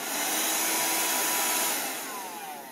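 A Shark vacuum cleaner runs close by with a steady, loud motor whine and airy roar that eases slightly toward the end.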